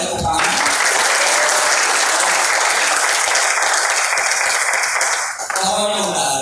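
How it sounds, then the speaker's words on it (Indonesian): Seminar attendees at a hotel in Banjarmasin break into loud, sustained applause that fills most of the stretch, then it cuts off abruptly and a voice resumes. "kita bisa beri tepuk tangan untuk kita semua, boleh tepuk tangan"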